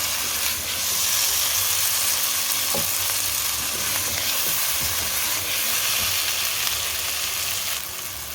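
Potatoes frying in a pan for aloo anday ki bhujia, a loud continuous hiss and sizzle with scraping and tossing as they are stirred and mixed.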